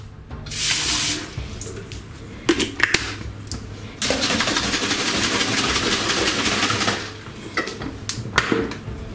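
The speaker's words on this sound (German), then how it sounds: "Ich werde natürlich wieder mit Wasser ausspülen." Tap water runs into a sink to rinse out a honey container during mead making, in several loud, close bursts of gushing flow broken by short clanks and pauses.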